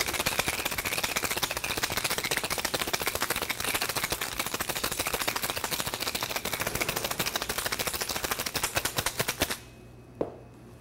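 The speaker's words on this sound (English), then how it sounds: "we're gonna shake the bejesus out of it." Ice rattling hard inside a cocktail shaker for an Aromatic Collins, a loud, fast, steady clatter shaken close for about nine seconds, then stopping abruptly with one last knock.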